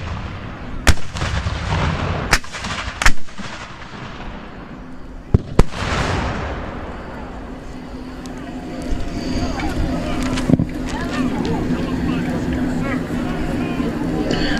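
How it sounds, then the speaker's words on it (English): Civil War era artillery cannon fire at an outdoor battle reenactment: several sharp, loud booms and cracks in the first six seconds, followed by rolling echoes and a steady background of crowd noise and distant reports. "The artillery, which you're experiencing now."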